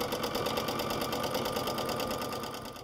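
A sewing machine free-motion quilts a spiral over a flower appliqué, whirring loud and close with a fast, even stitching rhythm throughout that eases off slightly at the end.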